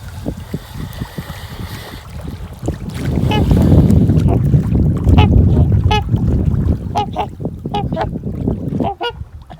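An attacking goose or swan on a lake lets out repeated loud, harsh honks and hisses close by, mixed with water splashing and wind noise around a small boat.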